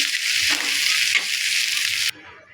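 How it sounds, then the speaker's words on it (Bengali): Fried chanda fish with masala and coriander leaves is stirred in a pan, making a loud, close, hissing sizzle that cuts off abruptly after about two seconds, leaving near quiet. "এবার একটু নেড়ে করে ধনেপাতাটা মিশিয়ে নেব"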